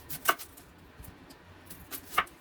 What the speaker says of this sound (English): I'm going to be slicing my onion